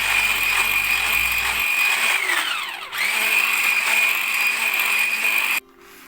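Cake batter for a chocolate Christmas log being whisked with an electric mixer, a steady close whirring drone that dips in pitch briefly midway and then cuts off near the end.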